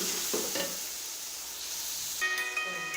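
Red chilli powder and turmeric stirred into a sizzling tomato masala for desi chicken pulao, a faint steady sizzle with a few soft stirring knocks and light metallic clinks.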